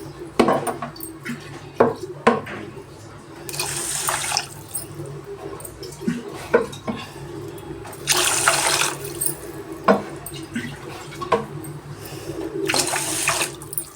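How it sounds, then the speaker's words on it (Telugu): Water poured from a glass into a pot of soaked rice for ghee coriander rice, in several separate bursts of splashing with quieter gaps of clinks and handling between them, close and clear. "4 గ్లాసులు వాటర్ వేసేద్దామండి."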